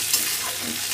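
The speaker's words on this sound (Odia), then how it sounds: "ଜିରା 1 ଚାମଚ ପକାଇଦେବା, ଅଦା କୁଟା ପକାଇଦେବା।" Cumin seeds and crushed ginger hit hot oil in a pan, giving a brief, steady hiss of sizzling with faint crackle.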